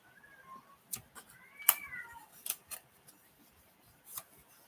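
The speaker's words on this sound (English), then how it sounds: "If y'all heard that, that's my cat in the background whining." A cat whining indoors in the background, a few soft wavering meows with quiet clicks and taps between them, faint and sparse.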